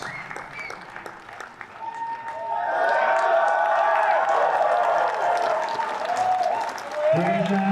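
Audience applause and cheering swell after a competitive grappling match, building from scattered claps into a sustained wash of clapping from a crowd, with a commentator's voice over it.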